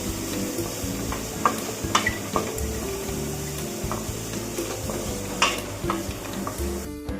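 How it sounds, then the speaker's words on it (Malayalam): Paneer cubes frying in ghee in a pan for a paneer curry, a steady close sizzle broken by clinks and scrapes as the pieces are stirred, with no voices. "നമുക്ക് ഈ പനീർ കുറച്ച് നെയ്യിട്ട് വറുത്തെടുക്കാം"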